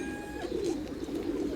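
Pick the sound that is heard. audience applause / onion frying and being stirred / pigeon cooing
pigeon cooing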